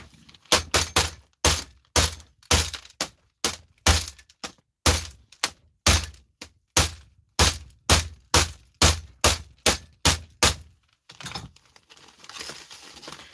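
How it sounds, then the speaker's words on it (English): Glass inside a strong plastic bag is struck with a hammer about thirty times in an uneven, rapid series of sharp cracking, crunching blows, followed by a quieter stretch of crinkling and shuffling. "I'm going to put that into that bag and I'm going to hit it with a hammer."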